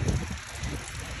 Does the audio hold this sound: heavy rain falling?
yes